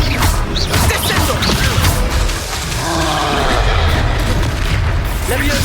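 A Descendo spell in Hogwarts Legacy slams a target down with a loud, heavy boom and crashing thwack, followed by whooshing magical effects over dense, continuous game noise.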